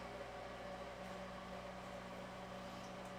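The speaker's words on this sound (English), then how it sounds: "in the back noise is the desolder fan to suck up the fumes" Desoldering fume extractor fan at an electronics workbench, a steady low hum with faint tonal whine, continuous and quiet in the background with no talking.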